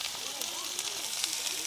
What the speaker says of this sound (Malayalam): എണ്ണ നന്നായിട്ട് ചൂടായിട്ട് നമുക്ക് ഉള്ളി ഇട്ട് കൊടുക്കാം.